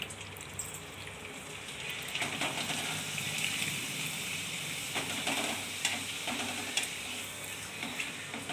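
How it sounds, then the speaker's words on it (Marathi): A ragi (finger millet) papad fries in hot oil with a continuous close sizzle and bubbling and a few faint scraping clicks. There is no speech. "तर चला आपण आता हा पापड तळून घेऊया"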